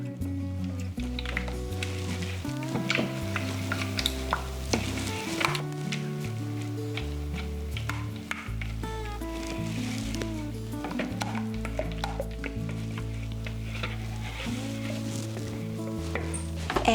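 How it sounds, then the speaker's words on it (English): Paste being mixed with water in a mixing bowl, giving soft, wet squishing and stirring sounds that run steadily under background music. "I will add the rest of the water to my mixing bowl and let's mix well."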